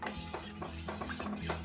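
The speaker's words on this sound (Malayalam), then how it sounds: "ഇതൊന്ന് ഇളക്കി കൊടുക്കാം." A healthy drink thickens in a pan on the stove while it is stirred, giving repeated close scraping and clinking strokes in an uneven rhythm, with no talking.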